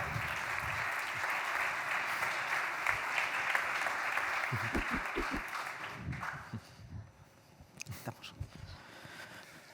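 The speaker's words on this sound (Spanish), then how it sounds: "Un aplauso para ellos" A conference audience applauds a round-table panel on public-private collaboration, a full, steady round of clapping that fades out after about six seconds, leaving a quiet room with a few scattered sounds.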